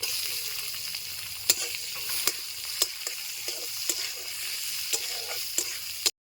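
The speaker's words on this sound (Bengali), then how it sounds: "তেল গরম হয়ে গেছে, পুরনে দিয়ে দিচ্ছি শুকনা লঙ্কা, দিয়ে দিচ্ছি রসুন কুচি, দিয়ে দিচ্ছি পেঁয়াজ কুচি" Dry chilli, chopped garlic and onion sizzling in hot oil for chana masala, a continuous bright crackling hiss punctuated by about nine sharp clicks of a spoon against the pan, ending abruptly.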